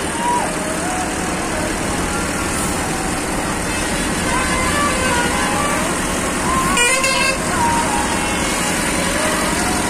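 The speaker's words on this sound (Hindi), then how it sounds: "तो गाइस देख सकते हो कितना भयंकर जाम लगा हुआ" Heavy traffic is jammed on a ghat road, with trucks and buses idling in a dense, constant rumble, and horns honk repeatedly at different pitches, including a long blast near the middle. Voices are faintly mixed into the din.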